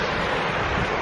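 Steady, loud broadband roar of High Force waterfall, rushing water close by with constant rumble and wind buffeting the microphone, no voices.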